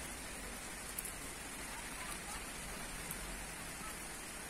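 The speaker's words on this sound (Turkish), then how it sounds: "8-10 gündür sürekli böyle yağıyor." Steady rain keeps falling in a soft, even patter, faint and continuous with a few slightly sharper drops standing out here and there.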